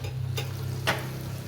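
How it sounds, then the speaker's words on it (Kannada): Chicken fries in masala over a low flame with a steady, soft sizzle. Two brief stirring scrapes break through it, heard close with no talking. "ಆ ಥರ ಲೋ ಫ್ಲೇಮಲ್ಲೇ ಫ್ರೈ ಮಾಡ್ಕೊಳ್ಳಿ"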